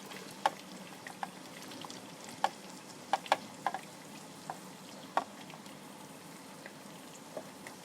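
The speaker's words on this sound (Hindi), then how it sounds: "प्याज को थोड़ा सा दोस्तों लाइटली ब्राउन करेंगे।" Sliced onions frying in a pan at high heat, a faint steady sizzle with scattered soft pops and clicks of utensils.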